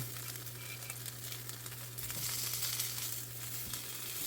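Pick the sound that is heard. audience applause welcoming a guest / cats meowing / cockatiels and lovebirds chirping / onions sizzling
onions sizzling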